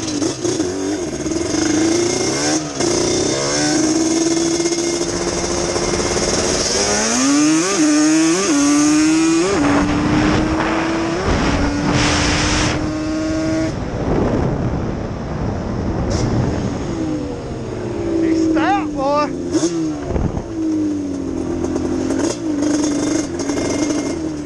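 A fast motorcycle engine revs hard, loud and close, its pitch repeatedly climbing and dropping in sweeping surges over a continuous roar.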